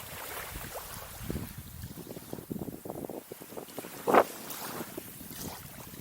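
Strong wind gusts buffet the microphone on an exposed estuary shore by the Thames at Grain Coastal Park, a steady roar of rumbling low noise with a brief louder burst near the middle, no talking.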